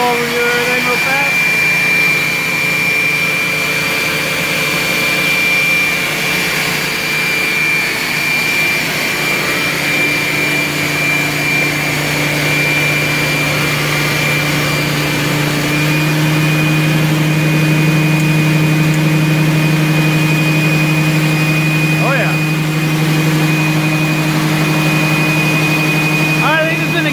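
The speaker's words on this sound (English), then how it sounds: "Demonstration of the electric system for the Viper Jet and this beast of a 300 amp starter generator." A 300 amp starter generator on a Viper Jet runs with a steady, loud mechanical whine and hum, holding a constant tone throughout with slight shifts in pitch near the end.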